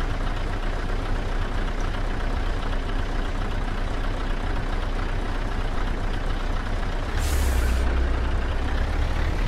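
Scania truck in Euro Truck Simulator 2, a steady loud engine drone and road rumble running throughout, broken near the end by a short sharp hiss of air brake release.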